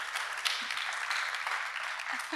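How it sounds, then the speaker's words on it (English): Audience applause for conference panelists at a technology ethics forum: dense, steady clapping from a hall of people fills the whole moment, with faint voices murmuring underneath. "Another clap, please, for the panelists"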